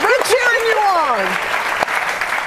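An audience on a live morning TV talk show applauds and cheers in a loud, close burst while a voice rises over the clapping, fading after a couple of seconds.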